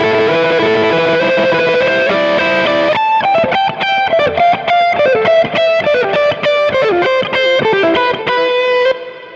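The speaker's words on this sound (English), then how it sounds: "Distortion." A music track with a distortion effect, starting with a sustained distorted chord, then a loud, gritty, driving run of rhythmic notes that fills the mix until it cuts off near the end.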